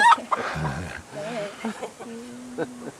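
A chicken clucks in short, uneven bursts with a drawn-out cackling note, fairly close, mixed in with people talking nearby.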